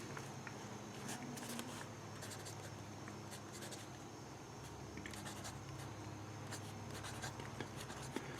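A Sailor Professional Gear Naginata fountain pen with a wet, smooth 21-karat medium nib glides across paper, making faint, soft scratching strokes in short, irregular bursts against a quiet room hiss.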